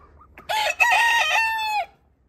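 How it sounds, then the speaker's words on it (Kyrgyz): A rooster in a coop lets out one loud, close cock-a-doodle-doo crow lasting over a second, with faint background noise before and after. "Монда дагы 2 короз бар."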